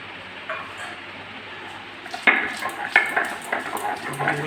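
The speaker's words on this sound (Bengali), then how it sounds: "এবার রসুনটাকে পেস্ট করা হবে" Garlic is ground into a paste after onions, with faint rubbing at first, then a run of close, rhythmic scraping and knocking strokes that grow steadier and louder.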